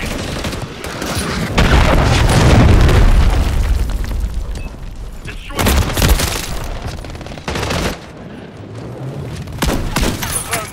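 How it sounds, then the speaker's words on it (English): Cruise missile strike explosions in a video game: loud, close booming blasts with a rumbling burst of impacts early on, followed by further heavy explosions and crackling gunfire-like bursts, with no talk. "Friendly cruise missile"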